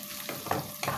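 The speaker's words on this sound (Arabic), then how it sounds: "هنا باش نحط البصل نتاعي يتقلى" Onions fry in oil in a pan, giving a brief, soft sizzle with a few quick stirring scrapes.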